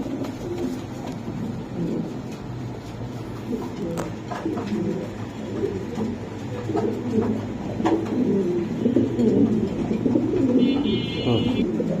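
Pigeons, offered as breeding pairs with eggs and chicks, coo steadily in a loft, the low murmuring calls overlapping through the whole stretch amid background chatter and bustle.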